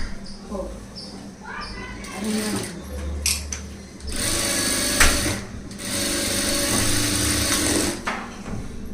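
Sewing machine running in short and longer bursts while stitching a front gap blouse, fairly close and moderately loud, with pauses between runs.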